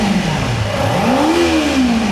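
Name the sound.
Kawasaki Ninja 300 engine revving on throttle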